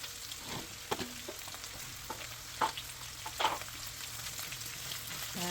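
Onions are added to golden browned meat frying in a pan, giving a quiet, steady sizzle broken by occasional stirring scrapes and taps, no voices.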